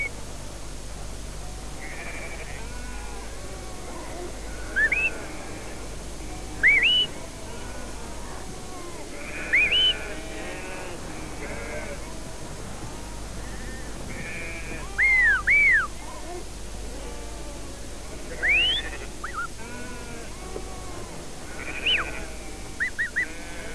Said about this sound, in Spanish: Por medio de los silbidos de su amo, puede guiar el rebaño a donde el pastor quiera.